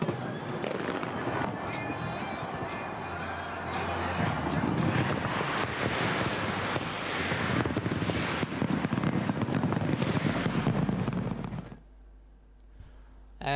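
New Year fireworks over Sydney Harbour: a continuous dense barrage of loud crackling bursts and booms with whistling streaks, sustained for nearly twelve seconds before stopping into quieter low rumble and wind.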